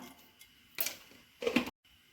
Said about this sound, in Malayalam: കടുകൊന്ന് പൊട്ടി വരുമ്പം